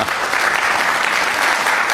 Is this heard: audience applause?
yes